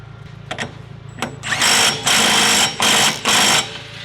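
An impact wrench runs down a nut on an angle kit for an S13 240SX. A few light metallic taps come first, then four loud, rapid hammering bursts with short pauses between them.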